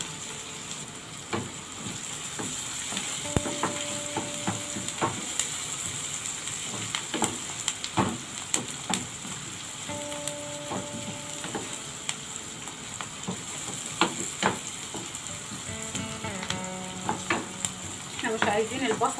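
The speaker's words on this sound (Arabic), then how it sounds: "شوح البصل بس شويه" Onions sautéing in a pan with mastic for a sausage tagine, a steady sizzle broken by repeated spoon scrapes and clatters against the pan, with a few faint tonal clinks, close and continuous without speech.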